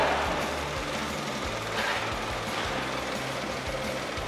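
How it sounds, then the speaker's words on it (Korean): A Kia All New Morning (JA) small car engine idles steadily up close, a low, even rumble with a faint rhythmic chug and no talking. "엔진 소리 일정하고 좋습니다"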